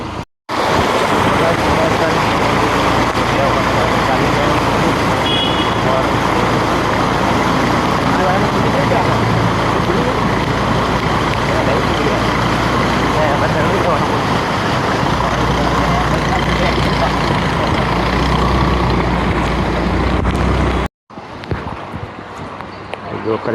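Cars, trucks and two-wheelers roll along a flooded highway after heavy rain, a dense steady roar of engines and water wash that cuts out briefly near the end, with voices talking over it.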